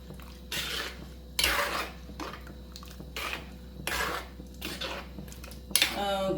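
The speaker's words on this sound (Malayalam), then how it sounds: "ഒന്ന് മിക്സ് ചെയ്ത് കൊടുക്കാം" Salt being stirred into a Trivandrum-style fish curry with drumsticks in a pot, a spoon scraping and clinking against the metal in repeated strokes, fairly quiet and close.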